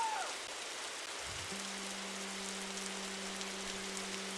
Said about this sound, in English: first we play some rain ambiance